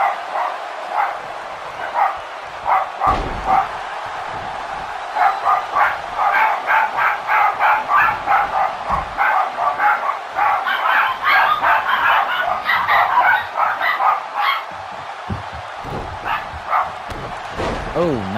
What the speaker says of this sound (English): You'll have to excuse the barking in the background.